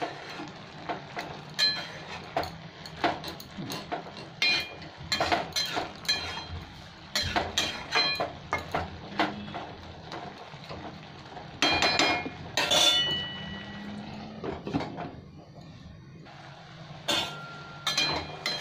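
A spoon stirs Bengali masoor dal with bitter gourd in a pot, producing irregular close metallic clinks and scrapes in bursts, with short quiet pauses between them.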